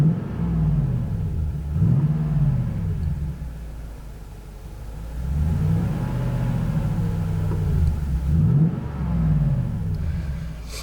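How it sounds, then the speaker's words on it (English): 2010 Toyota Tundra 5.7 V8 with a Flowmaster FlowFX exhaust, heard from inside the closed cab as it revs a few times, each rise swelling into a deep rumble and settling back to a steady idle. "I'm going to rev it up a couple times."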